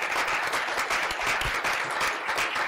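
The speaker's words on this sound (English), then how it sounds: "let's give the panel an incredible round of applause" A conference audience gives a panel on human trafficking a dense, continuous round of applause that stays steady and full throughout.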